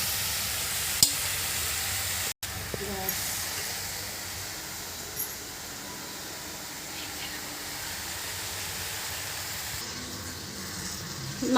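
Tomatoes frying in a pan give a steady, close hiss of sizzling that runs throughout, with a few brief clicks and knocks near the start and no voice.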